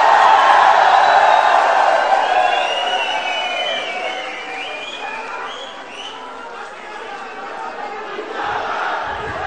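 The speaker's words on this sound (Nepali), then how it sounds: "राष्ट्रिय स्वतन्त्र पार्टीलाई जोरदार तालीले स्वागत गरिदिनु होला।" A crowd at a political party launch rally cheers and claps, a broad roar of voices and applause that is loudest at first and eases slightly while staying continuous, heard from within the gathering.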